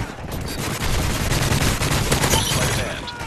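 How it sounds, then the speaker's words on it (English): Dense, rapid gunfire from an enemy strafe run in Call of Duty: Modern Warfare 3, a loud continuous barrage of overlapping shots and explosions filling the whole stretch, with a faint voice underneath. "Enemy strafe run inbound."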